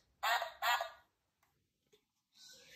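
Cartoon ducks quack at a pond where bread is being fed to them, two loud honking calls close together, then faint small noises and a brighter squawk at the end.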